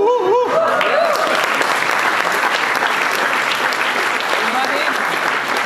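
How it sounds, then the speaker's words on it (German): A crowd at a German film critics' honorary award ceremony applauds loudly and steadily throughout. A voice is heard briefly at the start, then dense, sustained clapping fills the hall. "Ihr Applaus, lassen Sie sich feiern."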